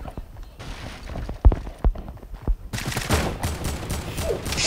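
Gunfire in Fortnite, a few sharp isolated shots followed by a dense rapid burst of firing, punchy and close.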